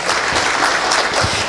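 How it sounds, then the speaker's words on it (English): Loud, sustained applause from an audience at a lecture, a dense wash of clapping hands that holds steady from start to finish. "Give him a big round of applause"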